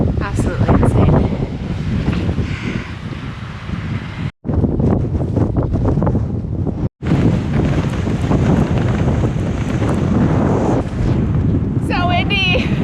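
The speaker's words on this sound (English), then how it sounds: "So windy." Strong wind on an exposed trail ascent along Iceland's Laugavegur Trail buffets the microphone in a constant loud roar, with two brief dropouts and faint voices under it.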